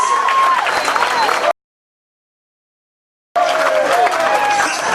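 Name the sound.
audience applause at an auction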